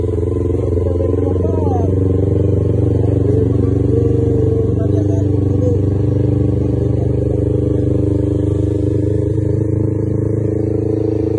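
A motorcycle engine idles as it warms up, a steady, loud, close rumble that holds evenly throughout with only slight changes.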